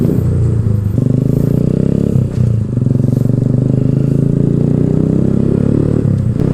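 A loud, steady Keeway Cafe Racer 152 motorcycle engine idles and rumbles close by, with a brief dip and some clattering noises.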